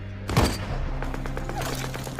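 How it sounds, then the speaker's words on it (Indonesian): A sharp burst of gunfire opens, followed by a rapid series of shots and crackling echoes over a continuous low rumble. "melepaskan tembakan"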